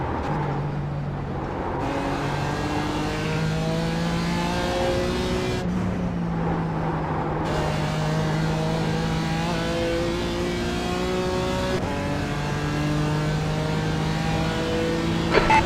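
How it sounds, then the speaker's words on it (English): A faster race car closes in and passes during a Nürburgring endurance race in iRacing. Loud, steady engine drone with harmonic tones climbing and dropping through gear changes fills the whole stretch, without talk. "Okay, Jesse, there's a faster car bearing down on you."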